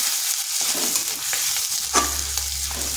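Grated ginger frying in hot oil with turmeric and chili, a steady close crackling sizzle with soft stirring scrapes, no talking.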